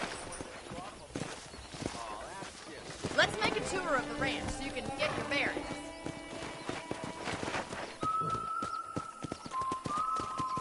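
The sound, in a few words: horse hooves clip-clopping while riding, video game Red Dead Redemption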